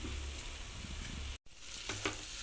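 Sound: crushed shallots, garlic, green chili added to frying pan

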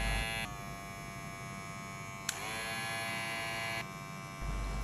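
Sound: electric hair clippers running

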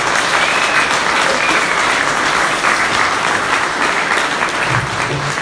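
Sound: round of applause from audience

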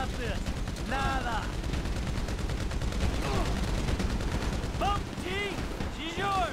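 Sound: gunfire in video game Grand Theft Auto 5

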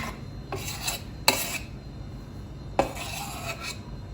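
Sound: stirring boiling jam in pot

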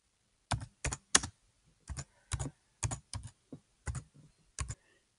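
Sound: typing a question on a computer keyboard

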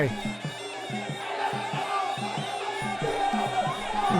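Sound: crowd of supporters cheering at a Muay Thai boxing match

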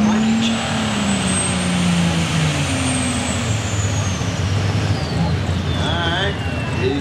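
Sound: pulling truck engine during truck pull

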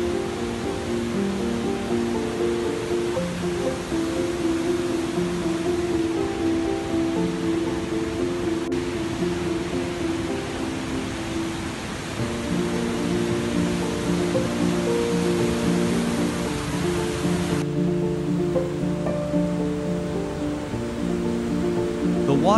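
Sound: Athabasca Falls waterfall pouring into a gorge

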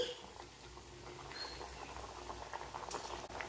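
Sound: dough dumplings frying in hot oil

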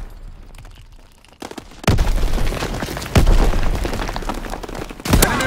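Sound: mortar explosions in the video game Call of Duty WW2

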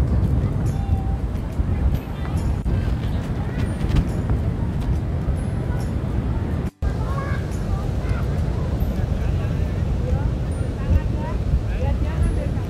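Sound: strong wind at Pantai Baru beach

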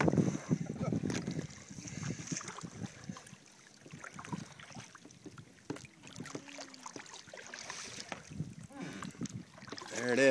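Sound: kayak being paddled on water

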